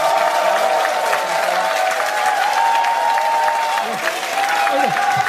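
Audience applause welcoming a guest lecturer at a forum held in the National Assembly: dense, steady clapping filling the room, with a faint tonal voice or hum running beneath it throughout.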